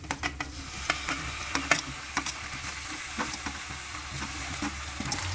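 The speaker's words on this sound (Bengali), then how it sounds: "ভাজা হয়ে গেছে, এখন কদুয়া আর আলুটা আমি দিয়ে দিচ্ছি" Kodoa gourd and potato pieces go into a pan of frying onions, producing a moderate sizzle punctuated by repeated scraping and knocking stirs.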